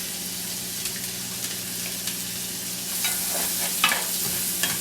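Three cloves of minced garlic sizzle steadily in a frying pan, a close even hiss with a few soft stirring scrapes and a brief louder surge toward the end.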